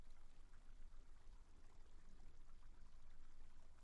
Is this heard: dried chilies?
no